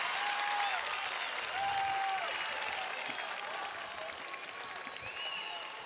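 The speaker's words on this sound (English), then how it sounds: "This New Lexington crowd on its feet here in Athens" A home crowd at a Division IV district final boys high school basketball game, on its feet applauding a made free throw with sustained clapping and cheering, mixed with high squeaks and whistles.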